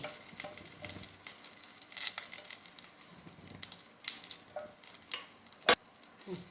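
Ginger fries in melted butter for paneer makhani, a faint, steady sizzle with light stirring scrapes and a couple of sharp clinks of a utensil against the pan.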